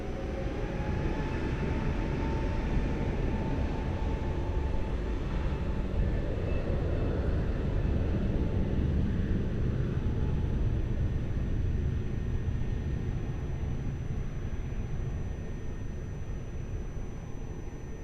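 A Lufthansa airliner taking off from Lisbon Airport, its engines a steady, loud broadband roar that holds level throughout and eases slightly toward the end, with a faint high whine above.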